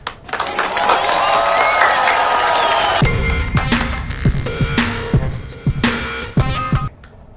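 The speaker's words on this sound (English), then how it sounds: "let's give a round of applause, everybody" A loud burst of clapping and cheering from a group, dense for a few seconds and then breaking into separate sharper claps before fading out, with some voices mixed in.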